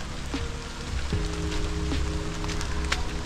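Rain falls in the jungle near the Nine Arches Bridge in Ella, Sri Lanka, a steady dense patter across the whole clip with a few brief tonal sounds over it.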